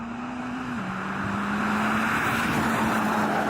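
Rolling drag race between a BMW X4 M40d, a Civic Type R and an electric Audi e-tron, heard from inside a car as a steady loud engine drone and road roar with a tone that dips once and then holds.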